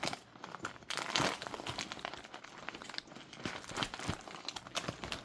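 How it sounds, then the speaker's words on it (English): An IV fluid bag, part of a chest-port infusion setup, is pushed into a backpack. Close, irregular plastic crinkling and rustling comes in bursts throughout, with no talking. "This is usually when I stick my bag into the backpack."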